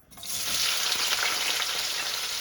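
Grated coconut fries in hot oil for a temple-style coconut chutney, giving a steady, loud, bright sizzle that starts abruptly and holds constant, close and alone.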